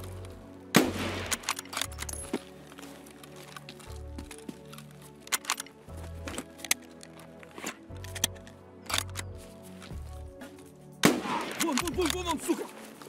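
Sharp gunshot cracks from the Escape From Tarkov video game, fired singly and in short clusters across the stretch with a dense burst near the end, over a low droning background.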